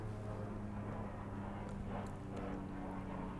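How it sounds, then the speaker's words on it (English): An airplane passes overhead outdoors, a steady low droning rumble that holds at an even moderate level throughout without other clear sounds. "Wait, Robert, can you hear the plane?"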